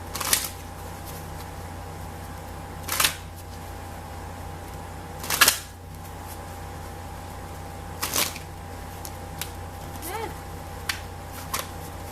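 A deck of tarot cards is shuffled by hand in a few short riffling bursts spread apart, each brief and fairly close, separated by a quiet, steady background hum with no talking.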